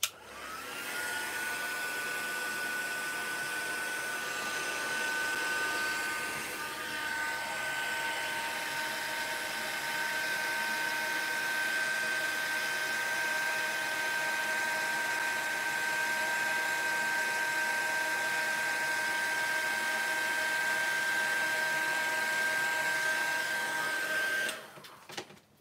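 An embossing heat tool blows steadily while heating card for a crafting project, a loud, constant whining rush of air with a high tonal whine that runs unbroken for about 24 seconds before cutting off.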